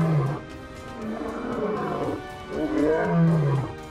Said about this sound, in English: The king of the jungle, the lion